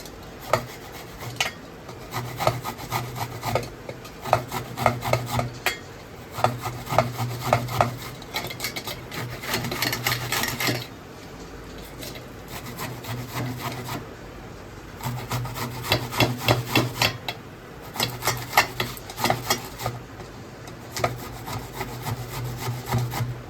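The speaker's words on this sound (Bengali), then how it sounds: "এবার আমি আপেলটা ঘষে দিচ্ছি, ঘষণে দিয়ে।" Apple being rubbed against a kitchen grater in repeated rasping strokes, bursts of scraping with short pauses between, close and clear with no talking.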